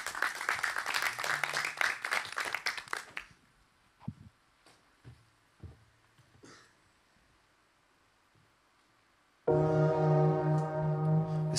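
Audience clapping for a performer at an intimate living-room concert, a dense burst of hand claps for about three seconds that fades out, followed by quiet pauses and then music.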